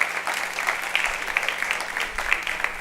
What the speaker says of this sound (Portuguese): Vamos aplaudir essa galera maravilhosa.